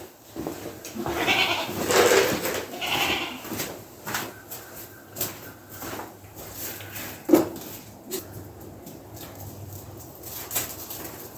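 Goats bleat a few times at close range over a busy outdoor background of bird calls and shuffling movement.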